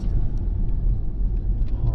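A Toyota Tacoma crawls over a bumpy boulder-strewn jeep trail on Bald Mountain, with a steady low engine rumble and continuous jostling road noise close by and no talking.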